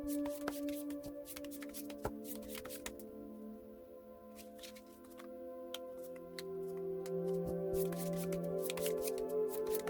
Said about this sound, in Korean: 카드 먼저 빠르게 뽑아볼게요